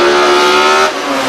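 Close, loud engine roar from 1960s race cars braking during an Australian motor race, briefly holding a steady tone before dropping lower as they slow.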